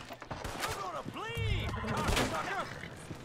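Gunfire in Red Dead Online, with scattered shots and bursts at a moderate distance under someone talking excitedly and other voices throughout.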